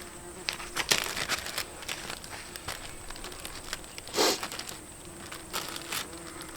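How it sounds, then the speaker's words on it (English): Faint buzzing of wasps flying near and around meat, rising and fading with occasional rustling and light handling noises. "those wasps aren't interested in stinging me. All they want is to get that meat."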